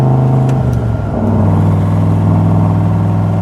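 A 1967 Chevrolet Corvette C2 with a 327 V8 and side pipes rumbles loud and close, its deep exhaust note dipping and then climbing into a steady revving drone.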